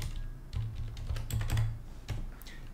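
Close, quick typing of code on a computer keyboard, a busy patter of key clicks with brief pauses, heard alone without talk.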